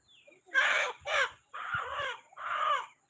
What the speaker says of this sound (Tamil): கோழி எல்லாம் அடையிற டைம் ஆயிடுச்சு அதான் கத்திட்டு கிடக்கு